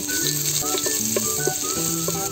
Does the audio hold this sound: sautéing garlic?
yes